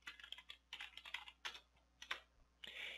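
Someone types on a computer keyboard in bursts of quick, crisp key clicks close by, with short pauses between runs and no talking.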